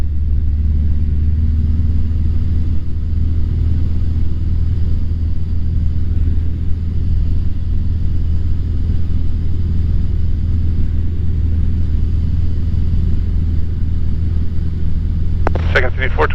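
Light training aircraft engine droning steadily as throttle is added, a low, constant rumble filling the cabin, with a brief sharper noise near the end.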